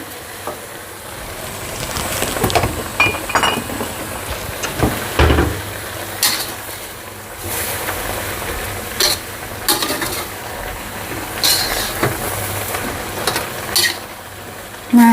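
Mixed vegetables stir-frying in oyster sauce with sesame oil, a steady sizzle with scraping and clattering of the utensil against the pan, close and continuous with no talking.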